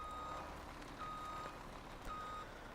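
Reversing beeps from a semi truck in the farming game Farming Simulator 17 sound as evenly spaced, steady electronic tones, three clear beeps over a low, quiet engine hum.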